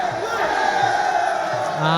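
Crowd cheering and whooping at a live Muay Thai boxing match, with loud sustained roars from the arena audience and a commentator talking over them.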